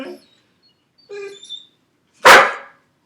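A puppy gives one short, loud bark close by, following a couple of brief sounds and a pause.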